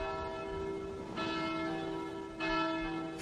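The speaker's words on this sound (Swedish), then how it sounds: "Precis som på kontinenten ringer kyrkklockorna över Sverige den 2 augusti 1914." Church bells ring over Sweden at the outbreak of war in August 1914, sustained tolling with a fresh swell of strikes twice during the clip, no speech present.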